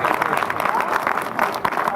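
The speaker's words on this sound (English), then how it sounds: "Give her a round of applause." An audience claps at a political rally, a dense burst of applause with crowd noise that stays loud across the brief moment, with a voice mixed in.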